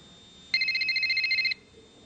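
A cellular phone rings with a bright electronic trill lasting about a second, loud and close, alone over a quiet room background.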